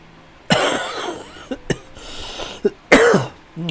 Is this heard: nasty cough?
yes